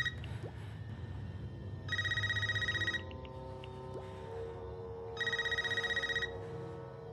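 A telephone rings in the 2022 film Scream: two separate bursts of trilling bell rings, each about a second long, rise over a low, steady background murmur.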